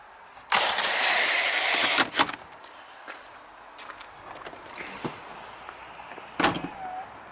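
Soft-close door on a BMW E60 525i LCI pulling itself shut: a loud whirring burst of about a second and a half, then scattered clicks and light thumps from the car interior, close to the microphone.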